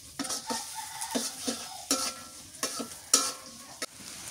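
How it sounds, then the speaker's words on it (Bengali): Onion and green chili lightly frying in a pan, soft sizzling broken by repeated scraping and clinking stir strokes of a spatula against the cookware, fairly quiet and close. "পেঁয়াজ আর কাঁচামরিচ হালকা করে ভেজে নিই"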